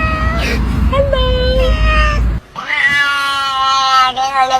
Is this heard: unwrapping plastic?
no